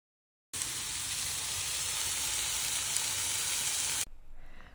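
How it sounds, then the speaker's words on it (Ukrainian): Steady loud sizzling of chicken cutlets frying in a pan without oil over medium heat, continuous hiss for a few seconds, then it cuts off to quiet. "смажимо на середньому вогні десь по дві хвилинки з кожного боку"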